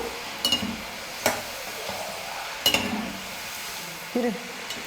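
Potato pieces fry in hot oil with a steady sizzle, broken by four or five sharp clinks and scrapes as a spoon turns them in the pan, close up with no one talking.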